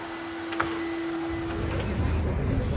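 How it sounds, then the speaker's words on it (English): A vacuum cleaner hoovering inside the terraced houses at Ephesus hums as a steady, continuous motor drone with a faint rumble in the background. "Even in ancient Roman times, someone had to do the hoovering."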